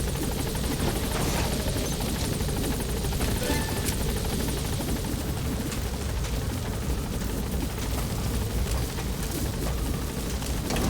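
A helicopter in the video game Metal Gear Solid V: The Phantom Pain gives a loud, steady rotor roar and engine drone that holds without a break for the whole stretch, with a rough noisy wash over it.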